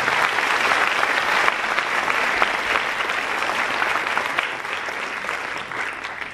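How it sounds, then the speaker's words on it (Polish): An awards ceremony audience applauds steadily and loudly throughout, a dense continuous wash of clapping with no voices breaking through. "Wielkie brawa, proszę Państwa."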